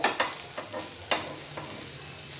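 A bread omelette sizzles quietly in a pan on low heat. A few soft scrapes and taps come as it is folded and turned over.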